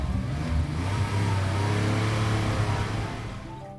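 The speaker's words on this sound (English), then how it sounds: "Let's see how a car moves." A car drives along a road, its engine revving loud and steady throughout before easing off slightly at the end.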